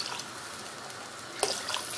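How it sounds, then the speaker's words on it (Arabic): Water poured from a cup into rice frying in a pan, a steady splashing wash that rises in a brief louder burst near the end. "احط كمان شويه ميه"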